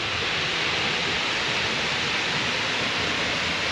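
Broadband rushing roar of Glencar Waterfall in County Leitrim, a steady wash of falling water at low summer flow, continuous and close with no voices.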